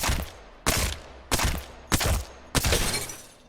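Five sharp, loud gunshot-like blasts from an R-301 or Alternator in Apex Legends cracking through an enemy's purple shield, spaced roughly half a second apart, each with a bright shattering tail and no talk.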